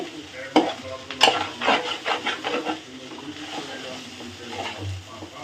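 Egg fried rice is stirred in a frying pan, with a soft oil sizzle under repeated scraping strokes of the spatula, close and fairly quiet.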